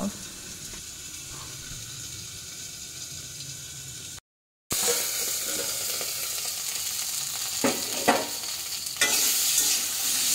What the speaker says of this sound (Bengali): এবার দেখো, তেলে নুন হলুদ দিয়ে আলুগুলোকে ভাজতে দিয়েছি।